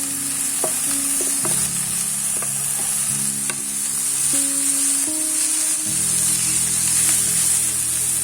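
Mixed vegetables and shredded cabbage sizzle in a hot pan for chicken spring rolls, a steady loud frying hiss broken by scraping and clinking of a spoon as the food is stirred, with no talk.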